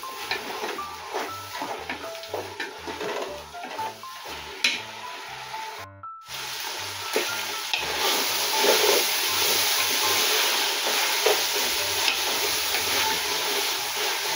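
Ground pork sizzles in a pan while cooking for Bicol express with string beans, a steady loud frying hiss with stirring scrapes under background music, rising fuller in the second half.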